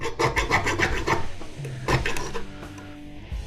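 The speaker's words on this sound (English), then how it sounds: "Let's check it with the file, I guess" Steel file rasping back and forth across the brass prongs of an industrial circuit breaker, a quick run of close, rhythmic scraping strokes that slows and thins out toward the end.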